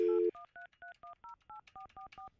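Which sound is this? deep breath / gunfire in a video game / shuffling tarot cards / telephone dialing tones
telephone dialing tones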